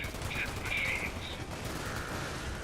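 Gunfire in the video game Fallout 76 crackles as a dense, continuous burst at moderate level with a few brighter tonal effects, and no speech.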